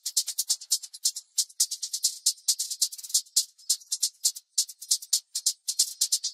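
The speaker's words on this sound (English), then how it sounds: "Listen to this hi-hat." A crisp hi-hat sample from an FL Studio beat ticks in a fast, busy rhythm with rolls and short gaps, bright and close, playing alone without other instruments.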